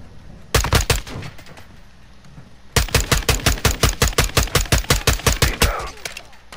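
Gunfire in Call of Duty Modern Warfare II: a short, loud automatic burst, then a pause and a longer sustained rapid-fire volley of evenly spaced sharp shots, close and punchy.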